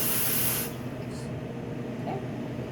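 Steam hissing from a coffee machine: a loud, bright spray for about half a second that then cuts off, leaving a low background hum with faint clinks.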